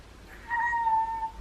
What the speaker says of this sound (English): I heard meowing. A lot of meowing.